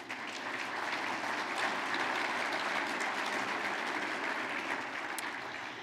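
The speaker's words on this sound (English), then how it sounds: "Let's please give all of our sponsors a round of applause" An audience at a regional chamber of commerce annual meeting applauding its sponsors, a dense, even wash of clapping that holds steady from start to finish and fades slightly at the end.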